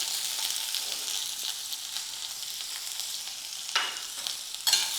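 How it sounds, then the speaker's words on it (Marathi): Chopped onion fries in a little oil in a pan, a steady bright sizzle running throughout, with a couple of sharper crackles and stirring scrapes near the end, no talk. "पॅनमध्ये थोडंसं तेल घेऊ त्यामध्ये घालायचं आहे कांदा"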